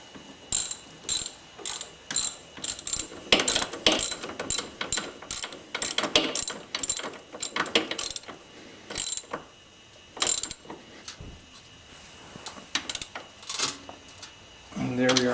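A ratchet wrench clicks in quick repeated bursts while tightening bolts on the rear shock of a Honda 250EX ATV, close up, with brief pauses between strokes.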